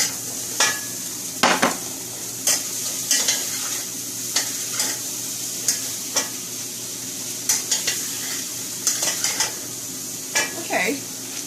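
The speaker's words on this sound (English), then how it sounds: "A good stir fry." Vegetables stir-fried in a pan for a vegetarian meal, sizzling steadily underneath while a utensil scrapes and clanks against the pan in irregular bursts, close and fairly loud.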